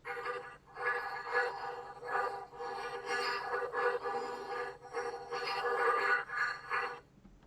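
Recording of stones convolved with another sound file in Csound through Blue, a dense, continuous wash of textured, smeared noise with gentle swells and dips that stays fairly steady and moderately loud throughout, with no speech.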